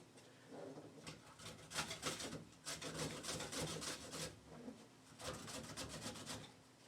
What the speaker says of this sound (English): Now the apple, I need a grater.